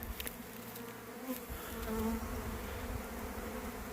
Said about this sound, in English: It's a big tornado of bees here